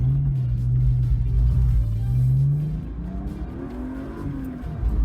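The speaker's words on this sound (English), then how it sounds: "Let's take off." A 1998 BMW E36 323ti pulls away, its engine revving loud and rising in pitch before easing back as the next gear takes over. The drone is heard up close from inside the car.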